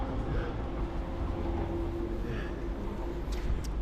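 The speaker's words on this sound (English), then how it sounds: "We're at the train station waiting for our train." Ambience of a train station in Salzburg, Austria: a steady low rumble with a humming drone and faint distant clatter, no clear talking.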